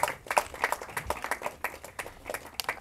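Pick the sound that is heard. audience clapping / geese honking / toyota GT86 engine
audience clapping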